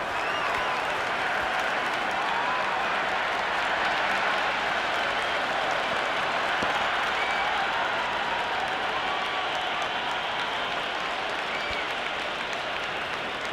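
In the Cricket 26 video game, a crowd at a Test match ground applauds in a steady, dense wash of clapping that holds at an even level throughout.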